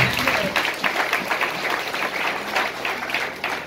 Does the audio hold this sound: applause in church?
yes